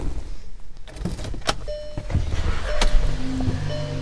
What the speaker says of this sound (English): Power moonroof.